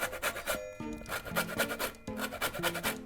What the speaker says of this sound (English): So what I'm going to do is just use a little grater